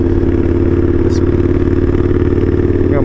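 An Indian Scout motorcycle built by Krazy Horse as the 'Street Hooligan' with a short exhaust pipe, roaring loudly while being ridden, a steady throbbing engine note with wind rush and a brief higher whine near the end.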